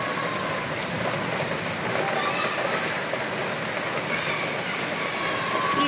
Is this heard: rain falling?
yes